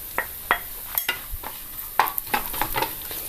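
Coconut pieces, nuts and raisins fry in a pan for rice payasam, with a light sizzle under repeated scraping and clinking stirs at an uneven rhythm, heard up close and without any voices.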